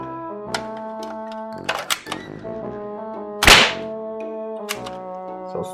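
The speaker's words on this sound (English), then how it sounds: "Nerf gun. Nerf. Fire Strike Elite." A Nerf Fire Strike Elite toy blaster lets out several sharp thunks and snaps over a few seconds, with one louder, breathy burst near the middle, close up with a steady tonal hum underneath.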